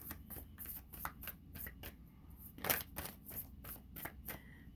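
Tarot cards shuffled by hand in a quiet room, a rapid series of soft crisp riffling bursts and slaps repeating steadily, close and fairly faint, with one louder flutter midway and no talking.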